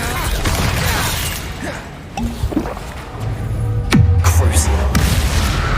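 Confringo spell blasts in a Harry Potter video game on PS5 crackle and thump beneath a talking voice, with one sharp, booming hit near the end followed by a low, sustained rumble.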